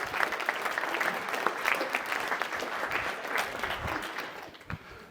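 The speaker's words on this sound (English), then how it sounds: "Round of applause for Dave." An audience at a leadership talk gives a round of applause, a dense burst of clapping that stays lively throughout and thins out toward the end, with no talking over it.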